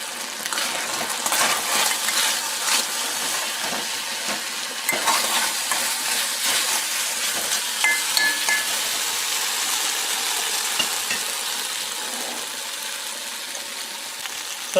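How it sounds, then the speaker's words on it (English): Chicken frying in a pan for a callaloo soup, a steady close sizzle with scattered crackles and pops running throughout, no voices. "our chicken is almost done frying here"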